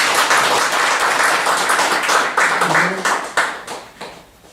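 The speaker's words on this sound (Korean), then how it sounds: "우리 한번 더 박수 한번 해주세요" An audience at an honorary doctorate conferral service at a theological graduate school gives a round of applause. Full clapping from many hands thins into scattered, separate claps that trail off toward the end.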